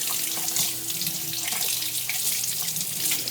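Bell peppers being washed under a running kitchen tap, a steady broadband hiss of flowing water splashing into a sink, continuous and close for the whole stretch with no talking.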